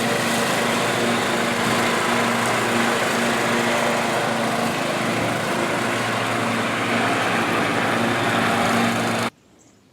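A lawn mower runs nearby, a loud, steady droning engine hum that holds for about nine seconds before cutting off abruptly, with no talking.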